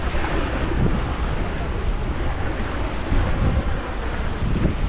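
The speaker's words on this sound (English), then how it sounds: "I'm literally on the beach" Waves and wind on a beach in Lisbon make a steady, loud rush of surf, with continuous wind buffeting the microphone.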